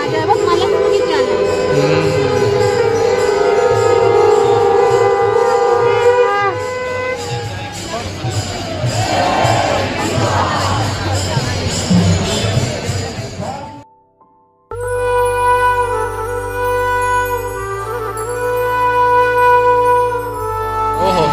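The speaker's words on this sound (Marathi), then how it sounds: "प्रचंड गर्दी." A huge crowd at the Sant Tukaram and Sant Dnyaneshwar palkhi procession on FC Road, Pune. Loud, dense crowd noise and nearby voices mix with tonal music, and the sound briefly drops out in the middle.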